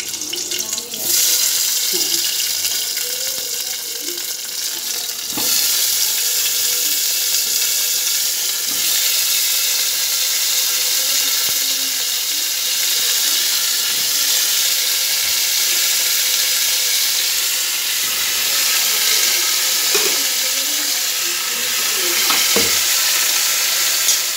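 Chopped tomato goes into a frying pan for a home-cooked paneer dish, giving a continuous close hissing sizzle with occasional taps and stirring knocks, and faint voices nearby.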